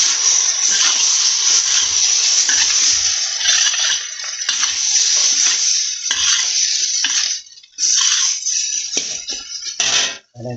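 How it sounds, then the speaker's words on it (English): Bacon noodles fry with dark soy sauce while being stirred in a pan, giving a steady, loud, close sizzle with scraping stir strokes throughout and a brief drop near the end. "Give that a stir."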